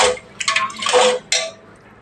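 A metal spoon stirs biryani with salt in a pot, making a few loud, close scraping and clinking strokes in quick succession, with no voices.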